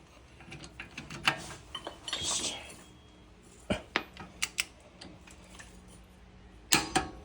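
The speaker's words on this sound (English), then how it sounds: "All right, so I got the torque wrench, got it set on 80." A torque wrench ratchets on a ball joint bolt of a 2014 Jeep Wrangler JK, producing scattered close metallic clicks and taps, with a sharp click near the end, fairly faint in a quiet workshop.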